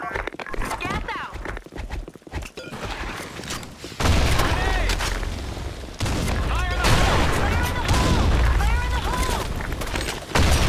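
A grenade goes off in the shooter game Blackshot, a heavy booming burst that lands twice in quick succession amid gunfire and clatter, with voices talking over the action.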